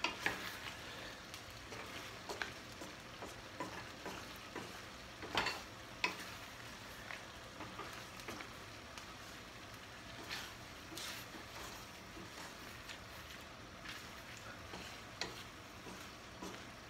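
A wooden spoon stirring pasta, sausage and spinach in a pan with gravy: soft scraping and clacking strokes at an irregular pace over a faint sizzle, quiet and close.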